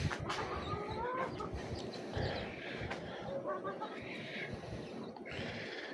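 Chickens and roosters in a garden yard cluck and call intermittently at a moderate distance, with scattered bird sounds over a soft background and no clear talk.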